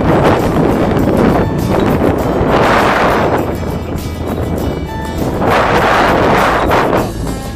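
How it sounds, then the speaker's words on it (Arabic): Strong wind roars across a rocky outcrop on Jebel Shams mountain in Oman, buffeting the microphone in loud, continuous gusts that swell and ease in waves. "فالفيديو الجاي هوريكو قد ايه الهوا كان قوي"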